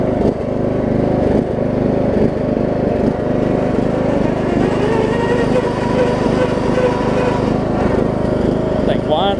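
A Troy-Bilt Bronco riding mower runs steadily in gear, its engine droning with a continuous high whine layered over the rumble, loud and close, without a break across the whole stretch.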